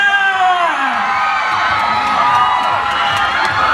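Outdoor crowd at a Songkran festival fashion show cheering, whooping and clapping loudly, with shrill children's shouts and voices rising over a dense, continuous roar.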